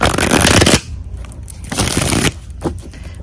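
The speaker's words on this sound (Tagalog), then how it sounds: "Balasahin lang po natin mabuti ang cards." A deck of cards being shuffled up close, two loud riffling bursts separated by a quieter stretch of softer card handling and a light tap.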